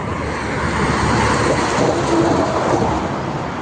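A very long freight train rolling past in Thunder Bay, Canada, a loud, close, continuous rumble and roar of wheels and cars with no break across the whole stretch.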